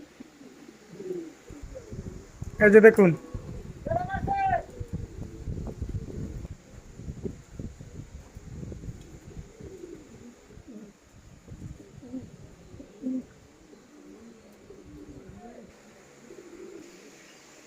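Foreign breed pigeons coo in a loft, giving a couple of clear, close calls early on and then softer cooing and fluttering, while someone talks briefly.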